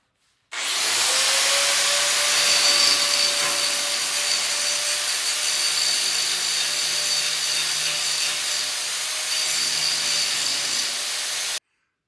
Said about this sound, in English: Well, I got all the welds ground with the big grinder.